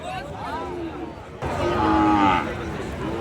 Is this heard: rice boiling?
no